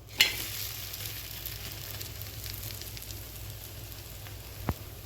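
Pancake batter sizzles steadily in a hot oiled pan after being flipped over a raised flame, a close, even hiss with a sharp clatter at the start and another brief knock near the end.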